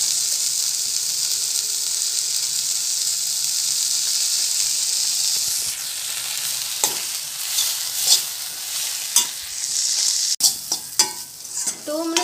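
Tomato masala with turmeric and chili powder sizzles steadily in a pan for a veg tortilla filling, a constant close hiss broken in the second half by several scraping stirs and taps.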